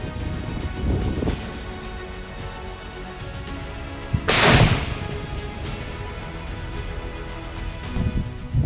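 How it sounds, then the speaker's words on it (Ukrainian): A controlled detonation destroys the unexploded thermobaric warhead of a damaged Russian Shahed-2 drone, heard as one sharp, heavy blast about midway through, some distance off, against steady outdoor wind noise with no speech. "Тепер пече, в місці вибухло, утворилася вирва."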